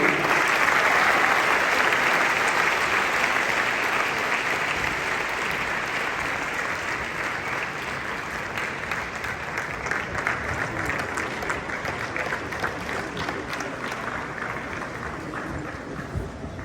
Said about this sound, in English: Give him a warm round of applause as he makes the stage